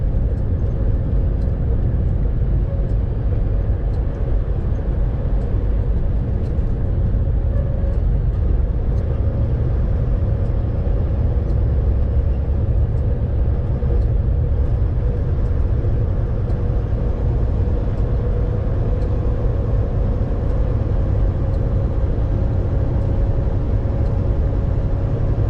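Inside the cab of a Volvo VNL 860 Globetrotter truck driving through an Iowa blizzard, a steady, loud engine drone and road rumble hold constant with no breaks.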